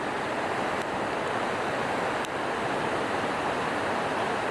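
A waterfall beside a campsite in wild nature roars as a dense, constant broadband rush of falling water, loud and near without pause.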